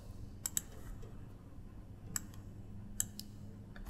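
Computer mouse clicks sound faintly while someone works in farm data software: several quick, sharp, close clicks, some in pairs, over a quiet room hum.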